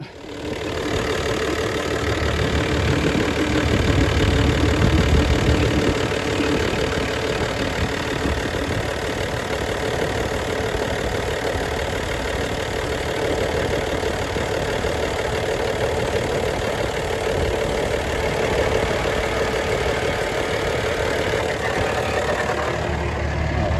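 A Toyota Land Cruiser 80 Series engine idles steadily and close by, a continuous low rumble with a faint knocking edge that holds level for the whole stretch without speech.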